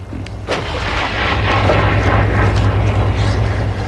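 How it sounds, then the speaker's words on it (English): An artillery and mortar barrage pounding the city of Grozny in Chechnya, a loud continuous rumble of heavy blasts and booms with no talking over it. "Russian tanks and mortars Thursday pounded Chechnya's capital of Grozny and other cities in the breakaway republic."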